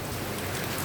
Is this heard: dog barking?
no